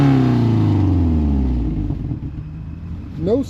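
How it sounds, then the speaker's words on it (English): A 2004 Subaru Impreza engine revs loudly, then the tone drops and it settles into a rumbling idle, with a brief rise near the end. "Let me rev it."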